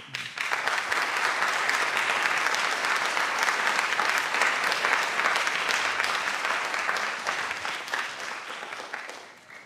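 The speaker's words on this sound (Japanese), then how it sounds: "続いて反対の方拍手" Sustained crowd clapping from football supporters at a club meeting, voting against a proposed team name change; a broad, even roar of hands that fades gradually near the end.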